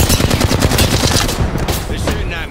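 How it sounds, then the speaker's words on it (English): Rapid automatic gunfire in the Apex Legends battle royale shooter, a dense burst of loud cracking shots rattling continuously at close range, with no spoken voice. "They're shooting at me."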